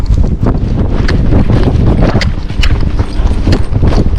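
A Tennessee Walking Horse canters, its hooves thudding in a quick, continuous rhythm close by, mixed with wind buffeting the microphone, no voices.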